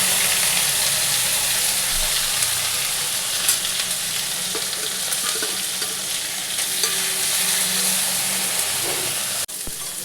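Spice paste frying in a pan for vegetarian ghugni, a steady loud sizzle and hiss with occasional stirring scrapes, continuous throughout and ending with a brief clatter.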